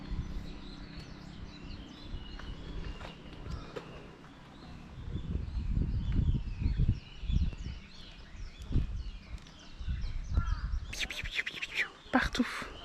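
Crows caw and small birds chirp around a Tokyo park, scattered and moderately near, under quiet background chatter, with a few louder bursts of calls near the end.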